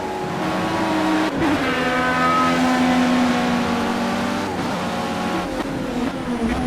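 A Dallara DW12 IndyCar lapping the Nordschleife in the Project Cars racing game, its high-pitched engine droning steadily with harmonics shifting up and down through gear changes, loud and continuous with no talk.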